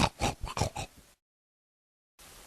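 A pig gives a quick run of close, loud oinking grunts in rapid bursts, then goes silent before faint background noise returns.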